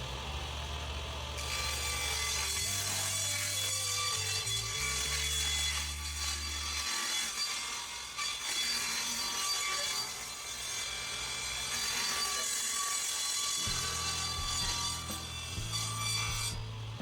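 A wooden fence picket being cut to length, a continuous rasping saw sound heard close and steady throughout, with a low drone that shifts in pitch and briefly drops out midway.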